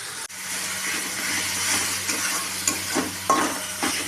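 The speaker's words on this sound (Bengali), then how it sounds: "এবার আমি এটাকে ভালোভাবে নাড়াচাড়া করতে থাকবো যতক্ষণ না এর মশলা দিয়ে তেল ছাড়ছে।" Chicken with salt, turmeric and spices frying in oil is stirred in a pan, a steady sizzle and hiss with a few scraping clicks of the spoon, close and continuous with no talking.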